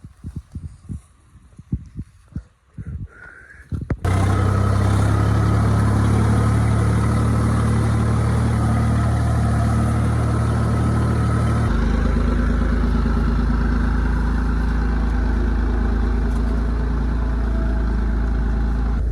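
A large Massey four-wheel tractor with big tyres runs in a wet, muddy field: a loud, close, steady low engine drone with strong rumble, starting abruptly after a few seconds of scattered knocks and shifting pitch partway through.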